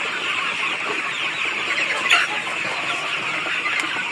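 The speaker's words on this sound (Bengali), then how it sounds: "তো এই মুরগিগুলো আপনাদের দেখাতে আনলাম" Chickens cluck steadily on a poultry farm, a dense continuous chorus of many birds close by with a few sharper calls rising above, no talking.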